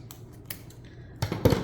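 Scissors snip through a ribbon tail for a wreath, a couple of quick, crisp metallic cuts close by, with the louder final snip near the end.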